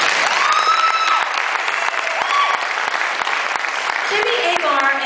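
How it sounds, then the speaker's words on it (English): Loud, sustained applause from a pageant crowd fills the clip, with whoops and cheers rising over the clapping. "Round of applause, please."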